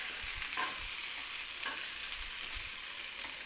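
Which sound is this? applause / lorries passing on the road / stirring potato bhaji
stirring potato bhaji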